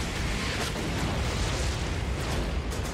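Missile blasts in Star Wars: The Force Unleashed 2 make a continuous, loud, rumbling roar of explosions. The roar stays dense and sustained throughout with no clear pauses between blasts.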